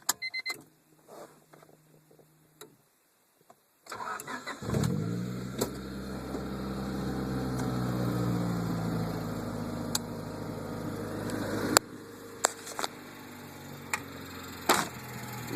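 A car with an EJ6 engine, header, Magnaflow high-flow cat and 2¼-inch catback exhaust starts up after a few clicks and settles into a steady, raspy idle, close and fairly loud, with occasional sharp clunks over it.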